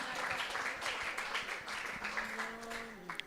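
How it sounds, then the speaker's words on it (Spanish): A church congregation claps together, a dense patter of applause at moderate volume with a voice speaking over it. "yo creo que se merece un aplauso mejor"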